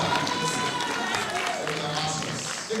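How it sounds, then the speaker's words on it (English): Applause from an audience at a Super Bowl celebration event in Las Vegas, a busy wash of clapping amid crowd murmur and sustained tones, moderately loud throughout. "Round of applause."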